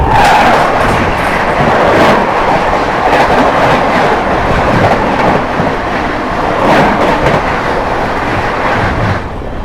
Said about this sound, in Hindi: सामने से आती हुई न्यू दिल्ली रांची राजधानी एक्सप्रेस